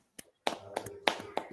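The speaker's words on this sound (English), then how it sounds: "Let's just clap it up for Morrow one time" A few sharp hand claps, spaced unevenly and close to the mic, with a voice talking between and over them.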